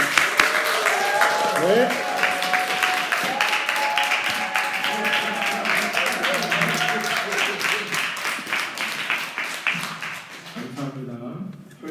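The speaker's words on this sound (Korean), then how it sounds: "박수로 환영합니다." A church congregation at a Sunday worship service applauds to welcome the pastor to the pulpit: dense, steady clapping for about eleven seconds with voices over it, thinning and fading at the end.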